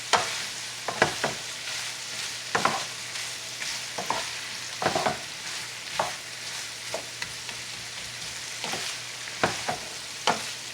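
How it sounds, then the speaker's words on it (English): Sausage and tomatoes sauté in a pan, a steady close sizzle broken by repeated scraping stirs at a loose, regular pace with no talking. "So I'm going to let this saute for a little bit."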